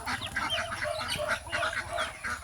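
Ducks on a farm being called to feed, giving repeated quick clucking and chattering calls that overlap in a continuous busy stream close by, with no talk.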